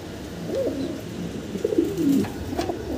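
A pair of Nuran lark fancy pigeons coo nearby, two or three rolling, throaty calls over a low background hum.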